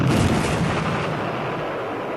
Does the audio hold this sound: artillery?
yes